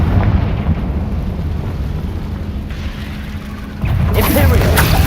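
A Confringo fire spell in Hogwarts Legacy bursts into a dense, rushing explosive roar that holds steady, then surges louder near the end as a fresh blast hits.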